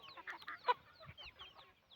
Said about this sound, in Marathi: प्युअर गावठी कोंबडी पालन